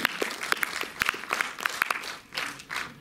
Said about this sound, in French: on peut applaudir aussi la distributrice Bénédicte d'Arizona